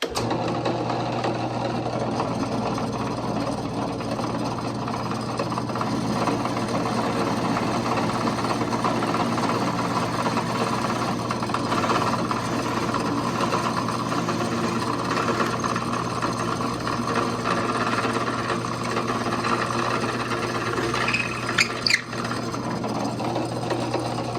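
A power drill runs steadily boring tuner holes in a guitar neck clamped over an ash scrap block, a continuous close motor whine with a low steady hum throughout and a few small clicks near the end.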